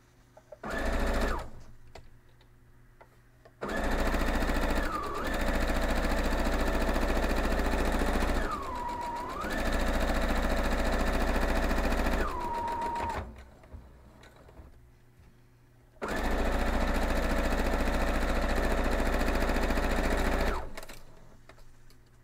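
A sewing machine stitches quilt block pieces in several long, loud runs separated by short pauses. The motor's whir shifts in pitch as each run slows or ends.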